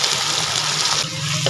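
Taro (arbi) frying in hot oil gives a loud, continuous hiss and crackle that dips briefly near the end, with no talking.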